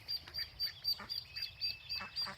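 Ducklings quack in quick, repeated high peeps and calls while feeding on micro kale in a vegetable garden, close and fairly soft, coming in short irregular bursts.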